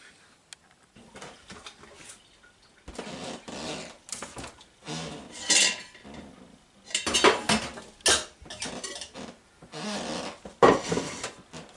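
Feta cheese moulds being turned by hand in a home kitchen, giving a run of irregular clattering and knocking bursts, close and moderately loud, with quiet gaps between them.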